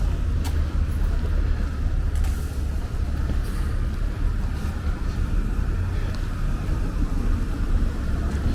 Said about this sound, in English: Looks like the B4 bus is picking up some people.